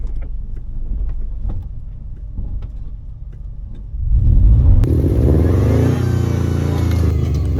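A lifted Subaru Forester stuck off road, its engine quiet at first with faint knocks, then revving up hard and holding a loud, strained drone at close range.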